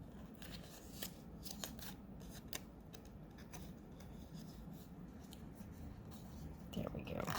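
Scissors cutting through a paper card banner, quiet close snips and rustling paper in irregular bursts, faint and close at hand.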